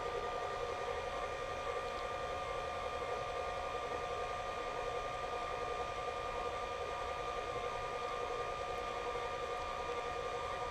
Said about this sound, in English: The mixer does all the hard work.